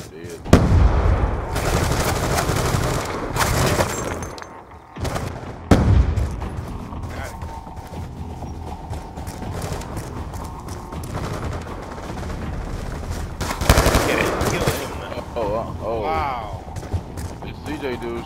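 Automatic gunfire in Black Ops 2 multiplayer: bursts of rapid shots and booms, loudest near the start and around the midpoint, with players talking over the game action.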